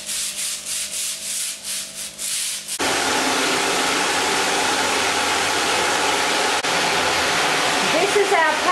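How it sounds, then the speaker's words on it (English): A powerful turbo hybrid tile cleaner machine starts up after a few quiet seconds and runs as a loud, steady, close rushing whoosh that fills the rest of the clip with no break. "This is our powerful turbo hybrid tile cleaner."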